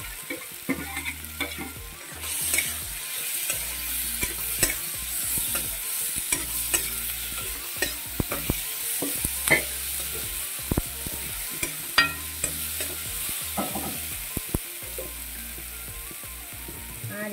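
Green chilies and fried potatoes sizzle in a hot pan while being stirred, a steady frying hiss broken by repeated scraping clacks of the spoon against the pan.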